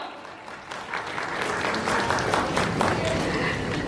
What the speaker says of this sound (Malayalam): നമുക്ക് എല്ലാവർക്കും ഒരു വലിയ കയ്യടി കൊടുക്കാം